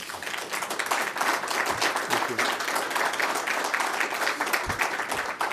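Sustained audience applause fills a press conference hall in Jerusalem, a dense, steady wash of many hands clapping at fairly even loudness throughout, with a few low thumps near the end.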